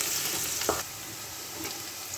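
Chopped garlic fries in oil in a pan, giving a steady close sizzle with a brief stir partway through before it settles to a quieter hiss.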